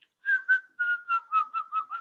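A person whistles in a run of about eight short, clear, steady-pitched notes, the first few slightly longer and the rest quicker and evenly spaced, imitating the whistle calls of capuchin monkeys.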